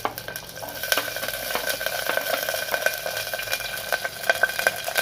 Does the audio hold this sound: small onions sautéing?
yes